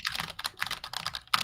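Rapid, steady typing on a computer keyboard, close and clear, with a quick run of clicking keystrokes that ends in a slightly louder final tap.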